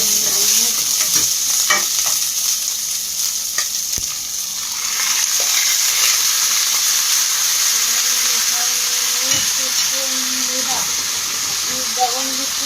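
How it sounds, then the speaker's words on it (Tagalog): Chicken sauteing with garlic and onion in a pan for chicken adobo, a loud continuous sizzle and hiss with occasional stirring knocks and a faint voice underneath. "I saute the garlic and onion and then saute the chicken."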